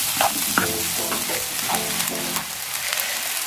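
Egg fried rice with mixed vegetables is stir-fried in a pan, the close, loud sizzle broken by repeated scraping strokes of the spatula.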